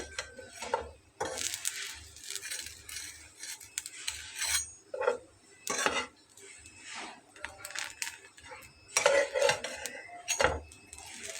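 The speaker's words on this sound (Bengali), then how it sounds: "আমি একটু চেপে চেপে ভেজে নিচ্ছি" A potato-filled sandwich is pressed and fried in a pan, heard as repeated scraping and metallic knocks of a spatula in irregular bursts over a faint sizzle, close and fairly loud.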